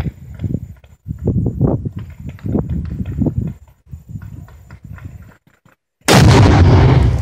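Tannerite target set off by a rifle shot in the desert: one loud, sudden blast near the end, following a stretch of rhythmic clopping and footstep-like sounds.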